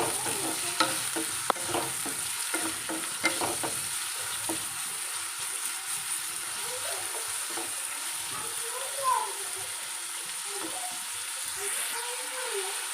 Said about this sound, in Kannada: ಈರುಳ್ಳಿ, ಹಸಿಮೆಣಸನ್ನು ಹಾಕ್ಕೊಳ್ತೇನೆ. ಇದನ್ನು ಚೆನ್ನಾಗಿ ಫ್ರೈ ಮಾಡ್ಕೊಳ್ತೇನೆ, ಕೆಂಪಾಗೋ ತನಕ ಈರುಳ್ಳಿ.